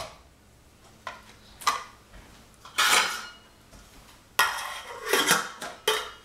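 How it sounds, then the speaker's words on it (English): A soup pot thickened with potato starch is stirred, with scattered metallic clanks of utensil and cookware and a lid set down near the end; sounds come in short close bursts over a quiet background, no voices. "So just stir that up and we'll put a lid on it."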